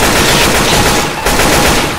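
Loud, continuous rapid gunfire from the zombie shooter video game Left 4 Dead 2, a dense unbroken burst filling the whole moment with only a brief dip midway.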